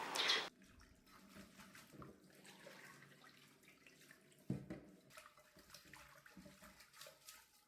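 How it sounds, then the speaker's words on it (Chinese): Soaked chicken bone grass, a dried herb, is rinsed in water in a kitchen. Water splashes and sloshes, with a loud pour at the start and softer swishing and a splash midway. "泡好的鸡骨草倒掉水，重新吸上清水，多清洗几遍，清洗干净。"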